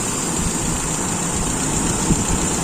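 A motorcycle with an Aisan carburetor idles steadily during an air-screw adjustment, a constant close low engine drone with no talk.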